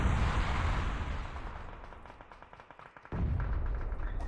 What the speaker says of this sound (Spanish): Los tiros se escuchan de la derecha